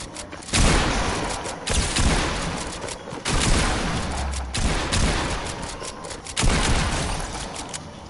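Shotgun blasts in a video game firefight, rapid heavy bursts of overlapping gunfire close and loud throughout, with a few brief gaps between volleys.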